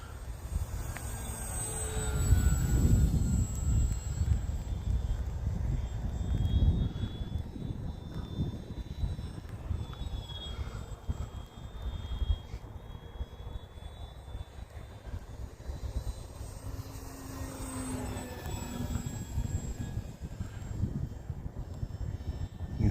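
An OMP Challenger RC model airplane's engine drones steadily overhead, rising and falling in pitch as it passes and banks, with wind noise throughout.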